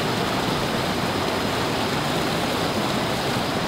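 A cool waterfall at a remote village without electricity pours in a continuous, loud rushing hiss that stays even throughout, with no voices.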